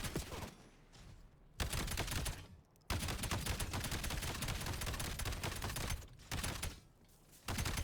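Shotgun blasts in Black Ops 7 Endgame, loud heavy reports in rapid bursts with brief pauses between volleys, dense gunfire filling most of the stretch without talk.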